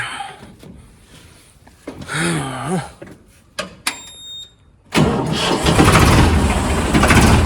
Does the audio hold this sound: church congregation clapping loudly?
no